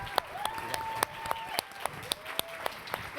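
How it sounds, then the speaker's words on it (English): A small audience at a Camp Strava 2023 session gives light applause, sparse, fairly even claps picked out one by one at a low level, with a faint tonal ring in the room behind them. "Big round of applause."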